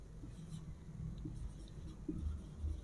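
The name Pisum is written out on a board, heard as faint, close scratchy strokes and taps that come in short bursts against a low background hum.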